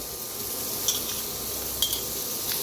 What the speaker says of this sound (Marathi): आता ह्याच्यातच कांदा भाजून घेऊया